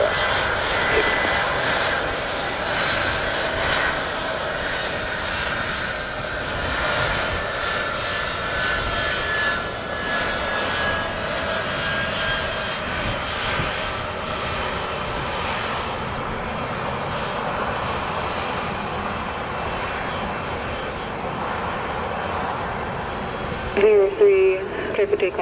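An airliner takes off from runway 07 at Montego Bay, Jamaica, with a loud, sustained jet engine roar that holds steady throughout and faint voices underneath.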